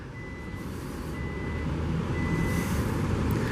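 A 2022 Volvo XC90 T6 AWD Inscription power tailgate lowering after a key fob command, giving off three evenly spaced warning beeps over a steady low rumble of surrounding outdoor noise.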